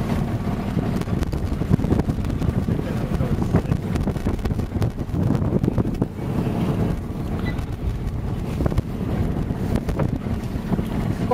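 A boat motor drones steadily on the Irish Sea, its low rumble blended with wind buffeting the microphone and the wash of water, loud and continuous for the whole stretch.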